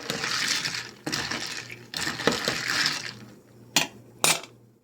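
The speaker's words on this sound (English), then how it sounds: "Give it a stir." A spoon stirring cola syrup and club soda in a glass, several bright clinks and scrapes against the glass in short bursts over fizzing liquid, close and clear, with a couple of sharp rings near the end.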